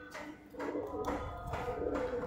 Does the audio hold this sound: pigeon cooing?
yes